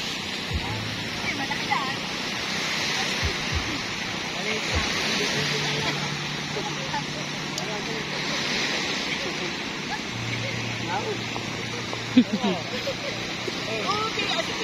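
Steady rushing surf fills the air, a continuous broad wash of breaking sea waves with a low rumble beneath and occasional faint background sounds.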